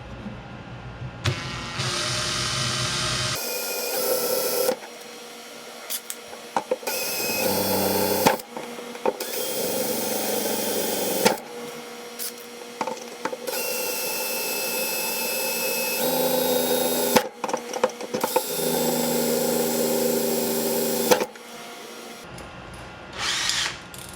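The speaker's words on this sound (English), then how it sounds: "So first I will drill some pilot holes." A power drill bores pilot holes into wood for a rustic lift-top coffee table, loud whining bursts starting and stopping repeatedly with short pauses between holes.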